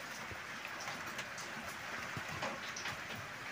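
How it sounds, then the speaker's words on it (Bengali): Heavy rain falls at night on a house where water is leaking inside, a steady dense patter with scattered drops, fairly quiet and even throughout. "এত বৃষ্টি হচ্ছে বন্ধুরা, ঘরের ভেতরে চারি জায়গায় জলে জল মগ্ন হয়ে রয়েছে"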